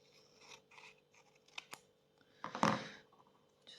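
Scissors snip paper photo edges while a faux Polaroid print is trimmed for a junk journal: several light, close cuts, then a louder, longer snipping burst near the end, with no talking.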